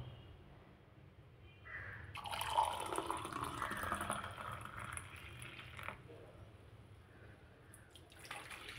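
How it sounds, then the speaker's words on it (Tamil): Black grape juice poured from a container into a glass, a soft liquid splash and gurgle running for several seconds at close range with no talk over it. "இதை நம்ம கிளாஸில் மாற்றிடலாம்."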